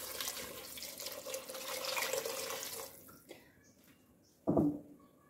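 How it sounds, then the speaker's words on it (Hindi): Water poured into a pot of cooking masala with fried tomatoes and green chilies, a steady broad gush for about three seconds, then quiet with a brief louder splash near the end. "और अब हम इसमें पानी डालेंगे।"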